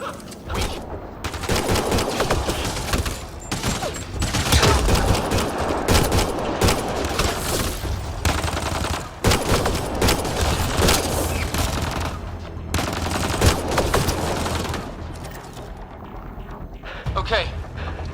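Sustained gunfire and explosions in the video game Mass Effect: Andromeda, loud and dense throughout, with heavy booms and voices talking over the firefight.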